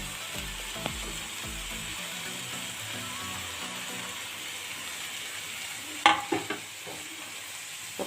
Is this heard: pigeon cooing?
no